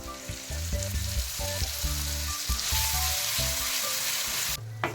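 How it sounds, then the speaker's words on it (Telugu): Onion paste fries in a pan with a loud, steady sizzle, while some tonal humming or music plays underneath throughout. "ఈ ఉల్లి కారం బాగా ఫ్రై అవ్వాలి"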